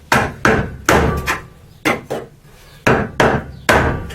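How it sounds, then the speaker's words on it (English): Hammer smacking apart welds on a scrap-metal wheelbarrow build: about eight loud, hard blows close by in an uneven rhythm, each with a short ringing decay and no talking. "A good smack like that, and you can see what's left of the weld crack."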